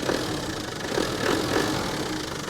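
A 1995 Land Rover Defender 90 pickup with a 300Tdi diesel engine idles close by, a steady low rattling clatter with a faint rhythmic knock, no voices over it.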